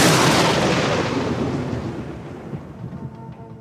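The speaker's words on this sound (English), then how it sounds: "I'm really getting a lot of use out of my lightning sound effect today." Sound-effect thunder clap: a loud, broad crash that hits at once and rolls away over several seconds, fading into a low rumble with no voices.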